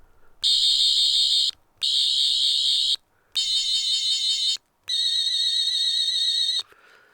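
Four loud, warbling electronic whirs from a bootleg toy 10th Doctor sonic screwdriver, in bursts of about a second and a half each, separated by brief silences, the last one steadier and longer.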